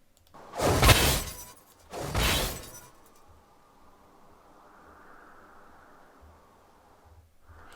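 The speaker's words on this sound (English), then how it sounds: "Shattering Strike. RELL stabs forward with her lance, breaking any shields and damaging all enemies hit." Rell's Shattering Strike in League of Legends lands as two loud, close glassy shatters in quick succession, followed by a faint lingering whoosh that fades to near silence.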